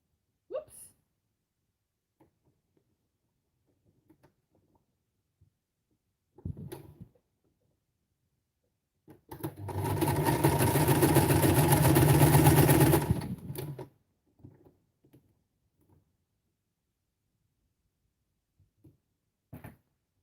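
A sewing machine stitches fabric scraps for junk journal embellishments in one close, rapid burst lasting about four seconds. Scattered light clicks and brief talk come before and after it.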